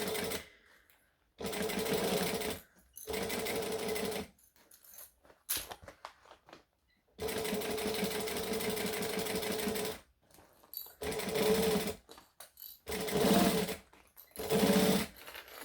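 Sewing machine stitching a seam on a Catalina crossbody bag, running in several long steady bursts of rapid mechanical whirring, separated by pauses and a few short stop-start runs near the end.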